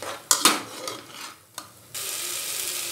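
Rice is stirred into vegetable khichdi in a pot, with a spoon scraping and clinking against the metal in a few strokes, then a steady sizzle that rises and continues.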